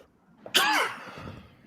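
A single sharp sneeze bursts out suddenly at close range during a team trivia tournament match, loud and brief with a trailing breathy decay, alone without talk.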